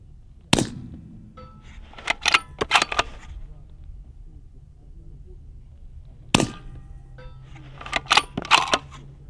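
A suppressed Springfield Armory Waypoint bolt-action rifle fitted with a Huxworks Ventum suppressor fires at steel targets: several sharp, fairly quiet shots, each followed by bright metallic rings and clatter, in two bursts separated by a quiet gap.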